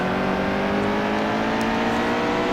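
The engine of the 31 Cap Financial Chevy Cup race car in a racing video game at Martinsville drones loud and steady at high revs, holding a constant buzzing tone with no talking.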